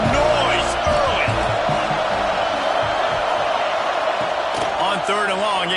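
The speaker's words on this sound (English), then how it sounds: "This crowd bringing the energy and noise early." A stadium crowd at a Boston College football game keeps up a steady roar of noise and cheering throughout, with a commentator's voice running over it.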